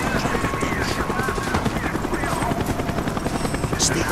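Steady, loud helicopter rotor thrum from the Call of Duty Black Ops video game mission, continuous throughout with scattered game sound effects and voices layered over it.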